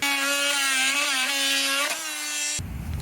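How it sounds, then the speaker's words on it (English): A Dremel rotary tool cuts through the metal of an old playset, a loud, steady high-pitched whine that wavers slightly in pitch, then cuts off abruptly near the end, leaving quiet room noise. "Just use my Dremel."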